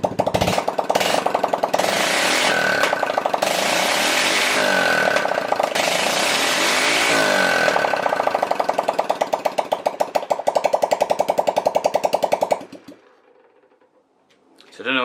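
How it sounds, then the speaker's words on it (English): Straight-piped four-stroke ATC engine running close by, a loud rough rattling exhaust with fast pulsing firing and uneven revs before cutting out near the end. "I thought I'd take this opportunity to listen to a 4-stroke straight piped."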